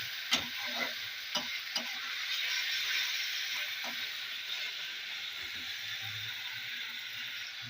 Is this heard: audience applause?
no